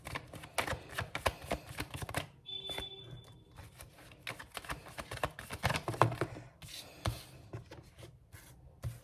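Tarot cards taken out of a pack and shuffled by hand, close, quiet rapid clicks and riffles in irregular bursts, with a short electronic beep partway through.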